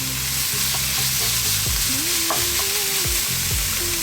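Chili, turmeric, cumin and coriander fry in a pan for a king fish curry masala. The oil sizzles steadily and close up while the spices are stirred, and a spoon scrapes the pan now and then.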